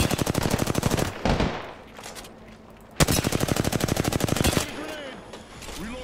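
Automatic weapon fire in the video game Apex Legends comes in two long, loud, rapid bursts separated by a short pause, with a few single shots and faint game effects around them.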